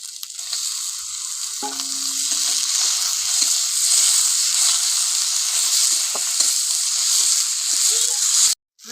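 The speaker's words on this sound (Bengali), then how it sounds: "এবার দিয়ে দেবো টমেটো কুচি" Chopped tomato tipped into hot oil in a pan, a loud continuous sizzle that swells and holds steady for several seconds with a few small clinks before cutting off abruptly.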